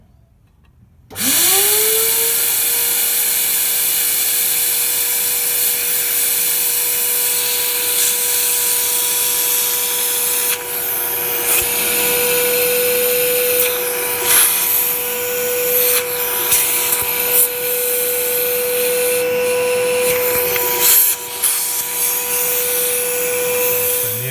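A steady, loud vacuum suction whine through a diesel engine's number 4 glow plug hole, with a sustained tone, starts abruptly and runs on, with faint clunks and rubbing noises over it.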